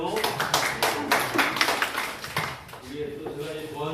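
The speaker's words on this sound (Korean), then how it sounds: "박수 한번 쳐주세요." A short burst of clapping from a group at a farmers' association member orientation fills the first few seconds, then a voice starts talking in Korean as the applause dies away.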